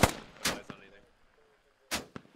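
Gunfire from a SAW light machine gun in the tactical shooter game Squad, heard as a few loud, sharp bursts, one near the start, another around half a second in and a third near the end, with quieter tails between.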